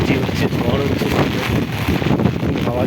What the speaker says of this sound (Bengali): হাওয়া চলছে